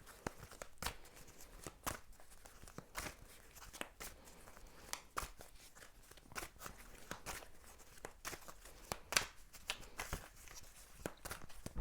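Tarot cards being shuffled by hand, a run of soft papery riffles and light slaps repeating irregularly, close and quiet, with no talk over them.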